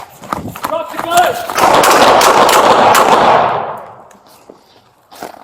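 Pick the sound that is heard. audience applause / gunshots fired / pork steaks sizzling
gunshots fired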